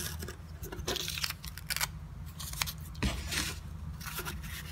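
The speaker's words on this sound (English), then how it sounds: "You can cut through paper," A homemade craft knife with a twig handle slices through paper in a series of quick, crisp scratchy strokes with brief pauses between them, close and fairly quiet.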